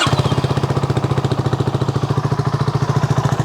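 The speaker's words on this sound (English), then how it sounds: "When I start it up, you'll hear the nice little rasp." A 2024 Mutt DRK 250 motorcycle engine runs with a steady, rapid low pulsing rasp, close and loud, each beat evenly spaced with no pauses and no voices.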